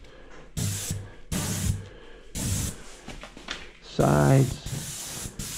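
Airless paint sprayer laying a coat on cabinets, heard as several hissing bursts of varying length between pauses, with a voice talking between them.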